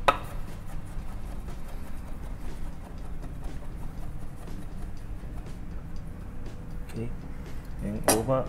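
Knife chopping an ingredient into smaller pieces on a board for a salmon poke bowl, a steady run of soft close taps with a few sharper knocks near the end.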